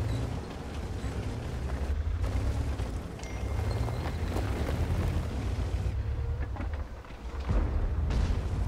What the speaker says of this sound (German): Und da sieht man schon mal, wie die Kanone so funktioniert.